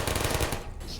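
Rapid turret fire in Portal, a dense, loud stream of shots that breaks off abruptly partway through, leaving a brief hum.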